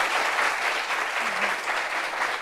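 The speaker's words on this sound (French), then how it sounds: "Applaudissements pour elle." Steady, dense applause from an audience at a gathering, many hands clapping together at an even level for the whole stretch without a break.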